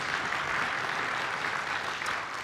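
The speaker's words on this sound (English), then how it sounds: "And let's clap for that one more time," A large audience at a Christmas event applauds, a dense, sustained wash of clapping that stays loud and even for the whole stretch before easing slightly at the end.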